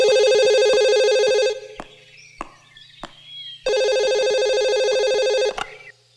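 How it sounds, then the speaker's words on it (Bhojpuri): An old-style telephone bell rings loud and close in two long bursts with a quiet gap between them, and nobody picks up. "कितना देर से घंटी बाजा था, केहू उठावत काहे नहीं खे?"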